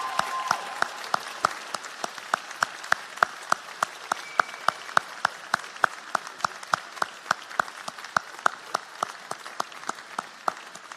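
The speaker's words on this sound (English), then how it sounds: "warm round of applause as well." A graduation audience at Lincoln College applauds family and friends with a continuous wash of clapping. Sharp, evenly spaced pops cut through it at a regular beat for the whole stretch.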